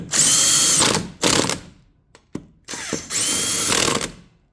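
Impact driver or power drill running chrome lug nuts onto the wheels of a John Deere Z225 zero-turn mower, with two long loud whirring bursts split by short ratcheting clicks and taps, close and alone.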